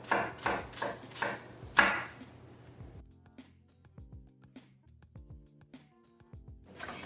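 A knife cuts apples on a board for a double-crust apple pie, with a run of quick, close chops followed by softer, sparser taps and scrapes, and no voices.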